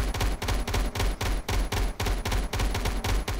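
Rapid automatic gunfire from the sci-fi video game Starforge during a base defense, a steady stream of loud, close bursts with brief gaps, no talk.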